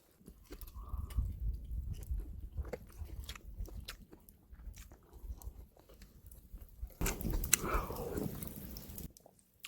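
Close-up mukbang chewing and biting of boiled pork belly, with soft wet mastication and occasional crunchy bites in an intimate, quiet setting, plus a brief louder burst of movement near the end.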